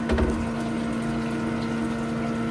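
A sump pump drains water from a freshwater tank, running close with a steady, loud hum and an even liquid gush that holds constant from start to finish.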